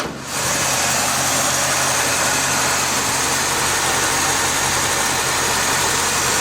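A 1968 Chevy C10 engine runs steadily and close by, a loud, even rumble that kicks in sharply at the start and holds without change, with no voices.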